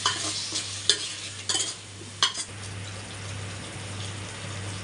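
Chicken biryani mixture with curd being stirred in a pan, with scraping spoon strokes at a steady rhythm over a soft continuous sizzle and a low steady hum, close and moderately loud.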